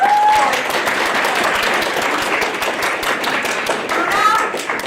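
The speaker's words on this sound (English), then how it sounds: "can we clap for my assistants?" Audience at the Cosplay America 2016 convention clapping for stage assistants, a steady dense round of applause with a few whoops, close and continuous.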